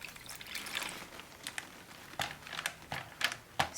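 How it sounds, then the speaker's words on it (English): Water poured and dribbled into fabric dye while mixing a lighter blue, heard as soft close trickling with crinkling and a few sharp taps and splashes. "I'm going to add a little bit of water"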